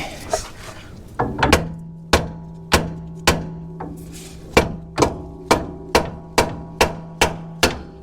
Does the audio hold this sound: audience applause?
no